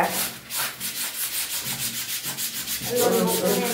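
A stained shirt is scrubbed by hand in steady back-and-forth strokes, a close, rhythmic rubbing of wet fabric that grows a little louder near the end, with no talking.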